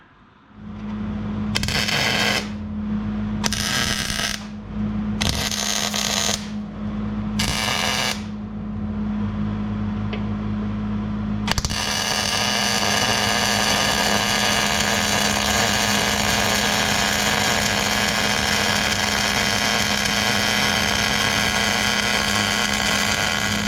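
Welding 3/16 steel plate onto a Toyota FJ Cruiser truck frame: a constant electrical hum is broken by several short crackling arc bursts, then a long, steady, loud buzzing weld, close and with no talk.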